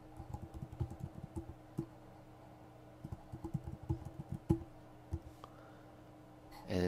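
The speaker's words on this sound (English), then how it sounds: "And then type in your first and last name." Quiet bursts of typing on a computer keyboard, irregular clusters of soft key clicks separated by short pauses, close and alone.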